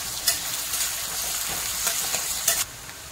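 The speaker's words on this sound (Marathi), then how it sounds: "त्याच्यानंतर हे कांदा टाकते, चांगलं असं परतून घ्यायचं।" Onions are sautéed in a pan with a loud close sizzle, broken by several scraping stirs of a spatula over about three seconds, with no talking.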